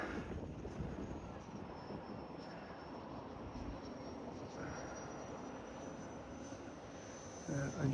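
A 3D-printed 50mm ducted fan on 6S power spins up and blows air, a faint, steady high whine over rushing wind noise that buffets more strongly at the end.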